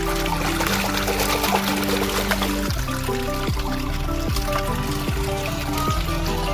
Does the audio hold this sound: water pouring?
yes